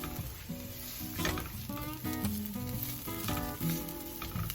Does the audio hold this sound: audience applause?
no